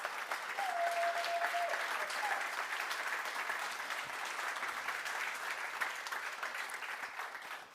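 Conference audience applauding at a center stage session, a dense sustained wash of clapping from many hands, steady and fairly distant, with a faint voice briefly audible early on.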